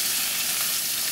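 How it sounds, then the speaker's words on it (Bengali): Fish pieces coated in turmeric and chili sizzle in a hot pan, a brief, steady, close hiss of frying with no talking. "এই যে প্রথমে একটু হলুদ মরিচ দিয়ে মেখে রেখেছিলাম, এখন একটু ভেজে নেব।"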